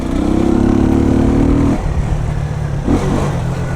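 A Jamco motorcycle with an Eagle engine accelerates hard in third gear, a loud close buzzing drone that climbs in pitch, breaks off briefly around a shift, then picks up again with wind rush.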